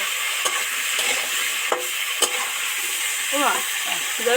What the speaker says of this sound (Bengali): লাল আলু গোল আলু আর টমেটোটাও দিয়ে দিচ্ছি এবার ভালো করে নেড়ে চেড়ে অন্তত দশ মিনিটের মতো নেড়ে চেড়ে ভাজতে থাকবো